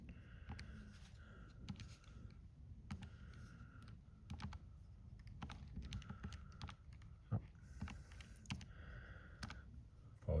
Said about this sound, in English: Apologies for the grandpa speed typing there.